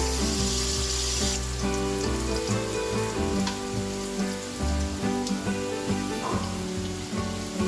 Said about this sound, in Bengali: পেঁয়াজটা আমি একটু ব্রাউন করে ভেজে নিই খুব বেশি ব্রাউন করবো না